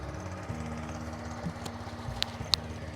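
2024 TVS Jupiter 110 scooter idling, a quiet, steady low putter from the small single-cylinder exhaust with a fine rhythmic pulse and a couple of sharp ticks near the end, with no talking.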